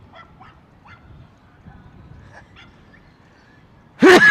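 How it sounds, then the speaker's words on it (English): A dog on a quiet Coney Island street in New York gives a single loud, sudden bark near the end, following several seconds of faint, low background ambience. "You hear a cute dog."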